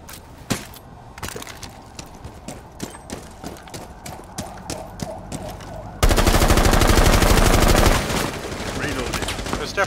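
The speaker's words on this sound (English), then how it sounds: "Definitely someone in here shooting through that window" Rapid gunshots in Rainbow Six Siege fired through a window on the Kafe map: a steady run of sharp cracks, then a dense, loud burst of continuous automatic fire lasting a couple of seconds.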